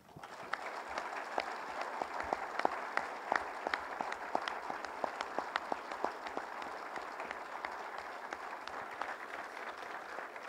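A seated audience at a national sports and leisure forum opening ceremony in Niger claps in sustained, steady applause for the defence and security forces, a dense patter of many hands with crisp individual claps throughout.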